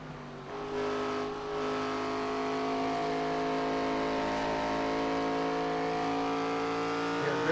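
An ARCA Series race car in the iRacing sim lapping a track, its engine a steady, loud, high-pitched drone with rising and falling revs, heard alone without talk.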